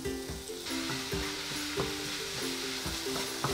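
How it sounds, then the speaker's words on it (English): Vegetables and sausage sizzle steadily in a hot wok while a utensil scrapes and stirs with regular clacks against the metal. "Let's pan fry this vegetable and sausage."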